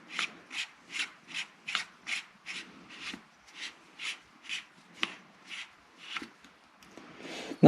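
Parts being screwed together on a Huma Air Raptor airgun regulator, giving a series of about fourteen evenly spaced raspy rubbing strokes, close and fairly quiet, with a louder clatter at the very end.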